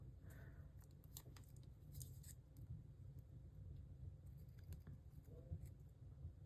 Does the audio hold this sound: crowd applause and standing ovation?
no